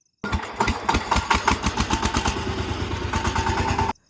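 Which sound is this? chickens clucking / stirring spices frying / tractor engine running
tractor engine running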